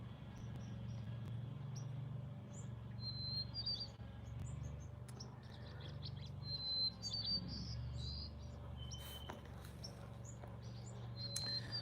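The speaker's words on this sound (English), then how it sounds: "come out and listen to the birds" Birds chirp and call intermittently at a distance in the morning over a steady low outdoor hum, with scattered short high tweets throughout.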